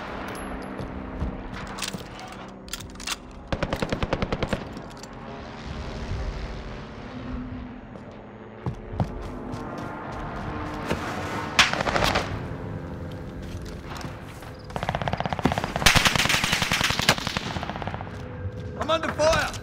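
Video game combat with repeated bursts of rapid automatic gunfire, sharp single shots and heavy explosive blasts over a droning aircraft engine, loud and chaotic throughout.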